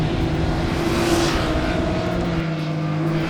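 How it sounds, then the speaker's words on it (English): Arrow silencers on a 2018 Triumph Speed Triple RS motorcycle give a loud, throaty, continuous exhaust roar that holds steady close by, with no talking over it. "The RS's Arrow silencers make an old-fashioned throaty bark as the revs rise."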